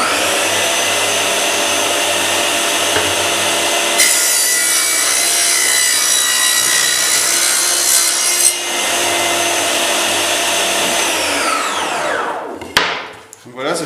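A Festool CS70EV portable table saw rips a piece of wood, a loud continuous whining cut that holds steady, then winds down as the blade spins to a stop near the end.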